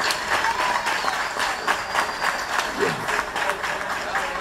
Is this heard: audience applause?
yes